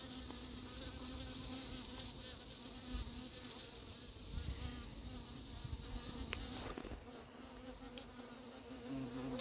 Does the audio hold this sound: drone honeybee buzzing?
yes